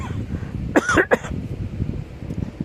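A man with guarana powder caught in his throat gives a short burst of coughing, two or three harsh close coughs in quick succession, then quiet room noise.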